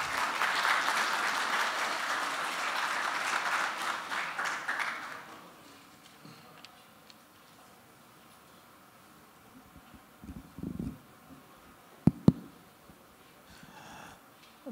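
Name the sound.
symposium audience applause welcoming a speaker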